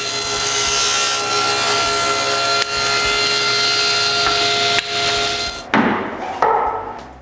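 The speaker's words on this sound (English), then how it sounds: "I clamp them all together, align every piece, and cut them all in one shot" A hand saw rasps steadily through several wooden pieces clamped together, loud and close with a continuous rough stroke, then breaks off into a few knocks and scrapes as the cut finishes.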